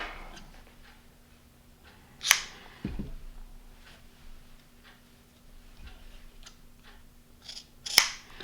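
Snips of a cutting tool through strands of Samson Velocity arborist rope, two sharp clicks several seconds apart over a quiet room with faint handling noises between them.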